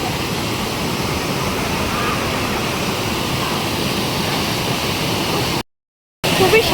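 Water rushes fast and loud down a waterfall where people are bathing, a dense steady roar filling the scene, cut by a brief silent gap near the end.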